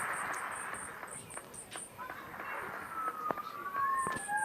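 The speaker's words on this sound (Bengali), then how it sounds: "তারপর দেখি পুলিশের গাড়ি দুইটা আসলো, দেখি আরেকটা আসলো।" A police car siren in a video game wails on and off over a noisy game scene, with rising and falling tones becoming clearer toward the end.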